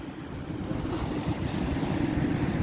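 Pacific Ocean surf washes onto a beach in New South Wales, Australia, a continuous, fairly loud rush of waves mixed with wind buffeting the microphone, with no voices.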